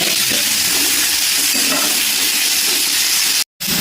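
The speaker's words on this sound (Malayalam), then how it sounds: "ഞാൻ കറിവേപ്പില ഇടുവാണ്." Curry leaves frying in hot oil for a cowpea curry, a loud, dense, continuous sizzle and hiss close up that cuts off briefly near the end.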